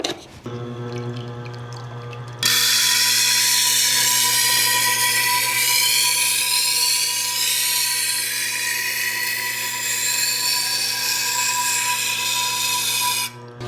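Knife blade held in a clamp at 20 degrees, drawn in a single steady pass along a 360 grit diamond stone; a continuous close, bright scraping hiss lasting about eleven seconds after a softer start.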